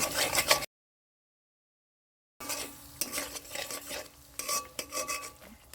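Bitter gourd curry with milk being stirred and mixed in a pan, close scraping spoon strokes over a soft sizzle, a brief burst, then a gap of silence before rhythmic stirring resumes.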